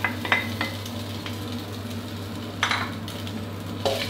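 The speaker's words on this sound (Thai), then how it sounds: "ตอนนี้กระทะเริ่มร้อนแล้วครับก็หมูกรอบที่เราหั่นเตรียมไว้ครับใส่ลงไปได้เลย" Crispy pork belly stir-fried in a hot wok without oil: a soft, steady sizzle and scraping with a few sharper clinks of the utensil against the pan, fairly faint and close, with no talk.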